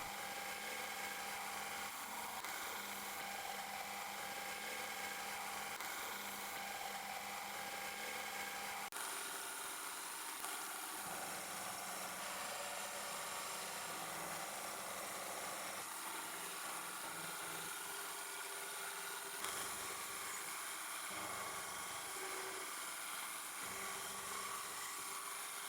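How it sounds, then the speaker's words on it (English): A converted CNC milling machine cuts a profile with a milling bit, Y-axis under CNC and Z-axis fed by hand. A steady high-pitched whine of cutting runs throughout, close and continuous, with slight shifts in tone. "So here I'm using both Y-axis CNC and Z-axis manual just to cut out"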